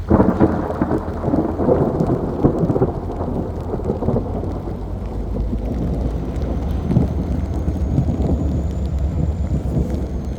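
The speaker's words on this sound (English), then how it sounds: "Standing out here in the rain." A heavy rainstorm hits near working locomotives, with a loud, continuous roar of rain and deep rolling thunder rumbling throughout, plus some wind buffeting the microphone.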